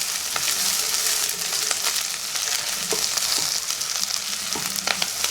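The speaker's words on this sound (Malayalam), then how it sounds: "നന്നായിട്ടൊന്ന് ഇളക്കി കൊടുക്കാം." Beef fry with curry leaves and green chilies crackling loudly in a pan, a dense continuous sizzle with frequent stirring scrapes and taps throughout.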